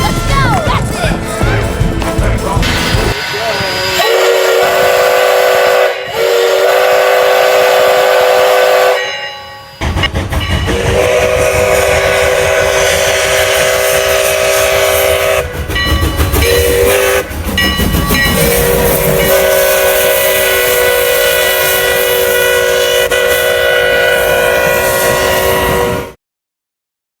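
A video game train passes with a loud, sustained whistle or horn blowing in long tonal blasts. Rolling rail clatter and wagon noise run underneath, with brief breaks between the blasts before the sound cuts off.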